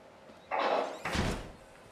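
A door slams shut in the horror video game Outlast, giving two heavy, close impacts about half a second apart with a broad rumble, set against a quiet background.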